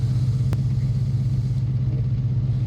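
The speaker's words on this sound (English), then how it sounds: "there goes compressor back on" Homemade on-board air compressor on an off-road truck running to refill its air tank, a steady low droning hum with a faint rhythmic pulse, close and constant with no talk.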